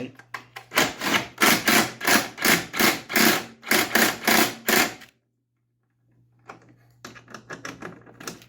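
A ratchet tightens 10 mm bolts on a Ski-Doo 900 ACE Turbo Rev snowmobile during a fuel pump pre-filter change, making loud, rapid rhythmic clicking bursts for about five seconds, then a pause before softer clicking resumes.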